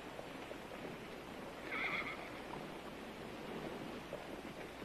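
A single horse whinnies at mid distance during a livestock auction in a Western setting, a short bright neigh rising over steady background noise.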